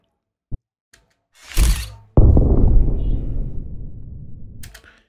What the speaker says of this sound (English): I will just add an explosion sound effect on this point.